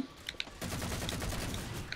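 Rapid pistol gunfire from the video game Halo 3: ODST crackles in quick bursts, faint and a little distant, with a dense volley of shots after a few sparse pops.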